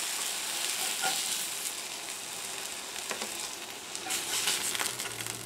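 Homemade sausage fries in a pan with a constant, fairly loud sizzle, broken now and then by scraping stirs and pops, and no voices.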